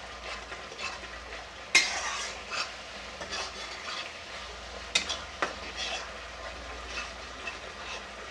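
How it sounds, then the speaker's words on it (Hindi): Soya kofta curry mixture stirred and roasted in a pan over a high flame, a soft continuous sizzle with scraping spoon strokes and two sharp clanks against the pan. "इसको चलाते हुए भून रहे हैं।"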